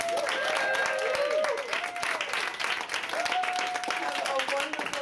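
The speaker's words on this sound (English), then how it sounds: "A huge round of applause." Audience applause at a community celebration: dense, sustained clapping from a crowd that fills the whole stretch, loud and close, with a few cheers and voices rising through it.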